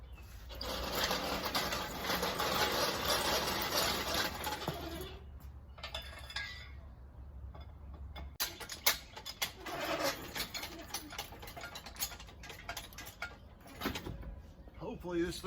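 A hoist lifts a new boat motor off a pallet, giving a sustained loud mechanical whirring, then ratcheting clicks and metallic clinks close by.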